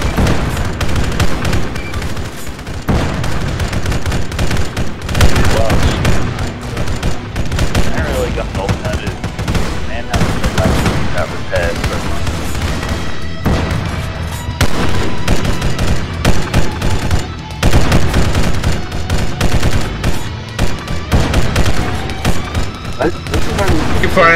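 Relentless gunfire in a Halo mod for Arma 3, with a tank crew battling Covenant Hunters in a street: dense rapid automatic bursts and heavy booms overlapping without pause, loud and close throughout.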